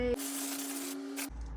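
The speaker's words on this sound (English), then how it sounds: "Gonna get some hairspray." A single continuous hiss of hairspray on styled beach-wave hair, close and steady for about a second, with no talk.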